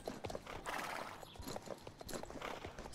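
Horse hooves clip-clop steadily in the video game Star Stable Online, a quick even rhythm of light hoofbeats running alone throughout with no talk over it.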